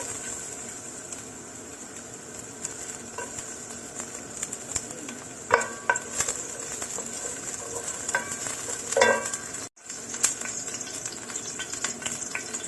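Garlic frying in virgin oil in a pan for vegetable spring rolls: a soft, steady sizzle with scattered stirring clicks, faint bird cooing in the background, and one brief dropout near the end.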